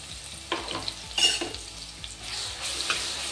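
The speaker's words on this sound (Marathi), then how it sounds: "जिरे टाकल्यानंतर आपण हे मिरची आणि लसणाचं वाटण करून घेतलं ते तेलात टाकून घेणार आहोत।" Chili and garlic paste hits hot oil in a pan, giving a soft, moderate sizzle with intermittent scraping stirs and a few clinks as it is moved around, close and fairly quiet.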